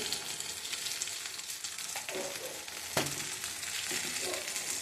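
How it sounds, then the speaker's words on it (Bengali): Eggplant pieces fry in oil with a little turmeric in a pan on a gas stove, giving a steady hiss and crackle with a few scraping stirs, heard alone and up close. "বেগুনগুলো মোটামুটি ভাজা হয়ে গেছে।"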